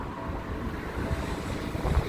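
Gusty wind buffets the microphone with low rumbling bursts, fairly faint and continuous, no voices.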